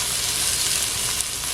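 Okra (bhindi) frying in a pan gives off a dense, continuous sizzle at close range, loud and even for a short moment with no voices.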